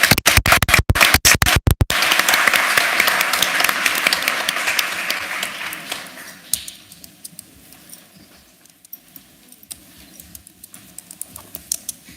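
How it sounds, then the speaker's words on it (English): Applause at a school board of education meeting for math portfolio students, a few loud sharp claps opening into strong close clapping that thins gradually into scattered claps and quiet shuffling. "let's give them a round of applause"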